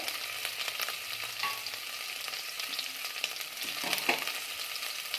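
Curry leaves with crushed ginger and garlic fry in a pan, making a bright continuous sizzle broken by rattling stirring scrapes and a brief louder crackle near the end.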